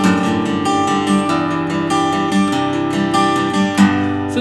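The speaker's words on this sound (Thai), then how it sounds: "ในการตีคอร์ดเพื่อนๆจะได้ยินเสียงปิ๊กกีตาร์ที่กรีดไปที่สายครับ" Acoustic guitar chords strummed with a pick in a beginner lesson, a steady rhythm of bright pick scrapes across the strings sounding close and full, with no talking.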